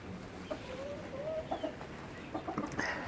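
Chickens, a newly added flock of Peking and Silkie hens with a Silkie rooster, cluck and murmur softly nearby. Their short calls come in a loose, scattered run over low background noise.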